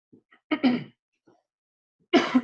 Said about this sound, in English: I've been battling with this little, I don't know what's going around, but something's going around and I've been coughing